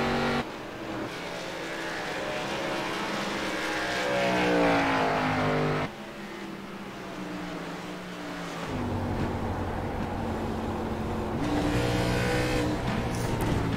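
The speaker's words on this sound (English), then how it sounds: "You heard him downshift there." A race car in the iRacing Pro Series at Phoenix roars steadily at close range, its engine note dropping through downshifts and rising again in long sustained pulls, with no talk.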